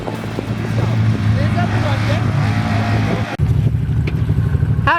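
A Can-Am Turbo Maverick Sport side-by-side races through mud at a drag track, engine droning loud and close with revving, while people talk over it; a sharp break midway before the engine noise resumes.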